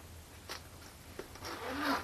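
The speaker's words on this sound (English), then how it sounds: "on the top here, these two zippers that go down, this is for your laptop pouch" A backpack zipper on a camera backpack's laptop pouch is drawn open, with soft close rasping strokes rising at the end over a quiet background hum.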